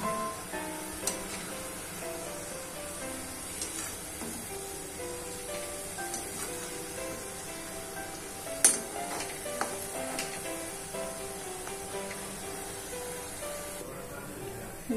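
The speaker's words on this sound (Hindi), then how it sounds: "गोल्डन ब्राउन होने तक हमें इसे तल लेना है।" Balushahi dough rounds frying slowly in oil over a very low flame, a steady soft sizzle with occasional stirring clinks and a sharper knock near the middle, no voices over it.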